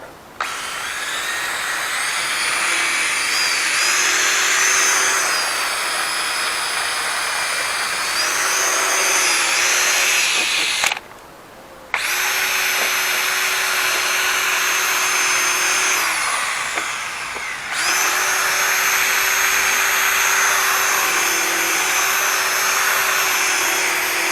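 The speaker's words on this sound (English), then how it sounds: "Don't want too high a speed on your drill bit" A power drill with a polishing disc whines steadily at high pitch as it grinds against a car headlight, stopping briefly twice before starting up again, loud and close.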